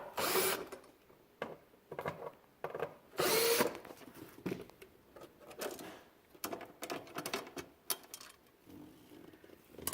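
A power driver spins out Phillips-head screws on the fuel pump cover of an Audi A6 C6 in several short, fairly quiet whirring bursts, separated by handling clicks and rustling.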